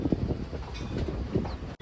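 A passenger train on a Puducherry to Hyderabad run rumbles loudly and steadily along the rails, heard from on board, with a dense low roar and faint rhythmic clatter ending in a sudden break.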